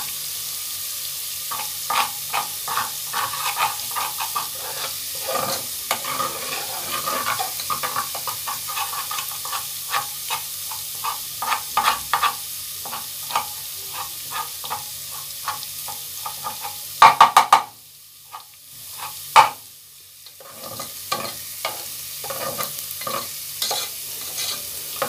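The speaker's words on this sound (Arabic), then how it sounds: "معلقة من الثوم على حبة كده من الزيت، وهبتدي ان انا ايه احمر فيهم كده" Garlic fries in a little oil in a pan, giving a soft sizzle under repeated scraping and stirring strokes, with a brief sound of running water partway through and no talking.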